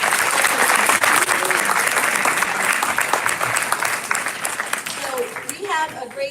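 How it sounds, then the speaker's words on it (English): Audience applause at a school district board meeting, loud dense clapping that thins toward the end as a voice begins talking over the fading claps. "Let's give them a huge round of applause."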